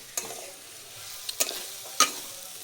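Onions being stirred and fried in a pan for a chicken and potato kosha curry, with a soft sizzle underneath and three sharp scraping strokes of the spatula spaced about half a second apart.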